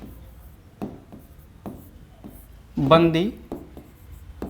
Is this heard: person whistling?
no